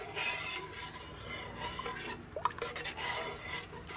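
A rice dish with three kinds of greens and pork is stirred slowly in a pot over low heat, a soft scraping and wet shuffling with a few faint drips and a gentle sizzle underneath, close and quiet.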